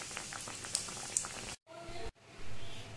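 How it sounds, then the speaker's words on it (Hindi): Chana dal puri frying in hot oil gives a steady bubbling sizzle, close and fairly loud, that cuts out briefly twice before resuming more softly. "तो धीरे से हमें तेल में छोड़ना है और उलट पलट के इसे भी ब्राउन होने तक फ्राई कर लेना है"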